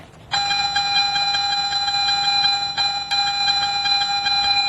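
A steady high electronic tone beeps continuously with a brief dip partway through, the sustained target signal of a Garrett metal detector.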